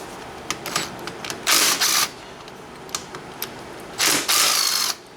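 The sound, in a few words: ratchet loosening brake caliper bolts on a Banshee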